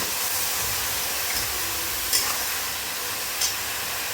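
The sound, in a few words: mushrooms with pepper and salt stirred and fried in pan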